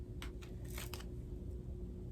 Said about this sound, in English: I started shuffling and then I lost it